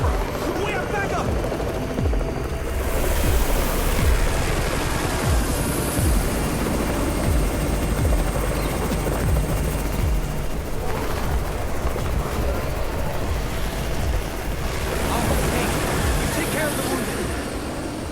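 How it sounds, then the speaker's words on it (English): A rotor-driven helicopter, Raven's chopper, whirs steadily in a zombie-shooter video game amid bursts of gunfire and machine-gun fire, with voices talking over the continuous din. "It's the Raven's chopper!"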